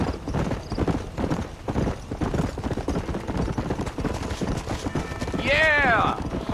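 Galloping horse in Red Dead Redemption, rapid steady clip-clop of hooves on the ground throughout, close, with a horse whinny near the end and voices under the hoofbeats.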